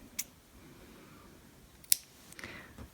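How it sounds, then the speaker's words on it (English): Scissors snipping crochet yarn, two or three quick crisp clicks, close and faint in a quiet room. "then we can cut the yarn"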